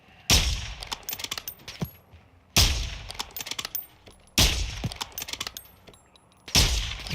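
Repeated bursts of automatic gunfire in Call of Duty DMZ, four loud volleys of rapid shots each fading into echoing tails, spaced about two seconds apart, with no talking.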